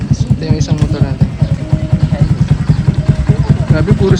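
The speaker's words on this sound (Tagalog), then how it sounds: "Ito yung isang motor natin." A motorcycle engine idles close by with a steady, rapid pulsing throb, loud and continuous, while people talk over it.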